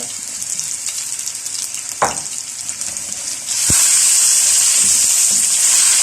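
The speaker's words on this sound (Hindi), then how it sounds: "इसको अच्छी तरह से इसको फ्राई करना है, तकरीबन 7 से 8 मिनट तक आपने इसको फ्राई करना ताकि इस चिकन का कलर चेंज हो" Chicken fries in a karahi for Shinwari chicken karahi, a steady hiss that jumps to a loud, bright sizzle partway through, with a couple of sharp utensil knocks against the pan.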